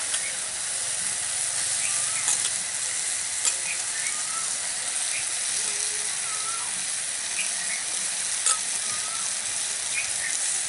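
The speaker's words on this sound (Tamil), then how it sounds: "வெங்காயம் தக்காளி இஞ்சி பூண்டு பேஸ்டோட நத்தையை சேர்த்து கொஞ்சம் நேரம் நல்லா வதக்கிக்கலாம்" Snails sautéing in a pan with onion, tomato and ginger garlic paste give a steady, even sizzle, with faint scraping stirs and occasional soft clicks from the pan, all at a constant moderate level.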